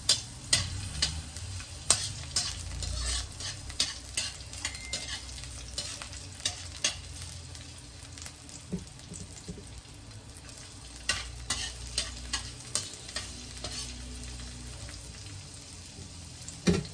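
Onion sautés in a little olive oil alongside a cream dory fish fillet, a soft steady sizzle under repeated spatula taps and stirring scrapes, close and moderately quiet.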